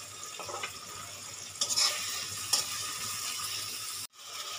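Ginger garlic paste drops into a hot frying pan for a para fish curry, giving a faint, soft sizzle with a couple of brief louder crackles and stirring scrapes, then a short break near the end.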